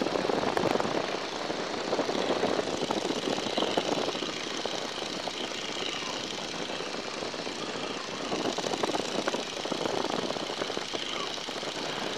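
A small training airplane's propeller engine drones steadily during a flight lesson, a constant close buzzing hum with slight surges, heard from inside the cabin with no talking over it.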